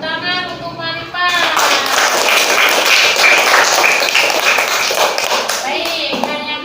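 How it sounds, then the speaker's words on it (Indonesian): Classroom applause for a student named Marifah, a burst of many hands clapping steadily for several seconds, with children's voices and a teacher talking before and after. "Oke, tepuk tangan untuk Marifah."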